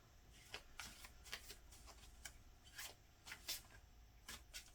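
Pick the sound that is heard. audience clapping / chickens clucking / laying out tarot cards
laying out tarot cards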